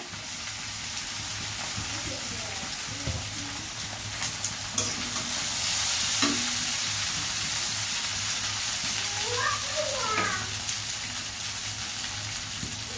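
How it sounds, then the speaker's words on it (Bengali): Boiled noodles stir-fried with vegetables and black pepper in a pan, a steady sizzle under scraping stirring strokes, close and moderately loud throughout. "এখন দিয়ে দিব আমার এই যে সিদ্ধ করে সেকে রাখা নুডলসটা।"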